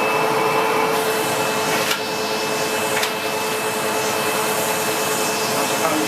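A SEBO X4 Extra upright bagged vacuum cleaner runs steadily with its hose in use, giving a loud, constant broadband whoosh with a faint steady whine and brief rubbing bumps.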